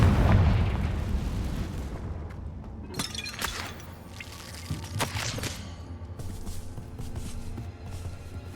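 The Confringo blasting spell from Hogwarts Legacy goes off in a deep rumbling explosion, followed by a few sharp cracking bursts as debris and the blast echo die away.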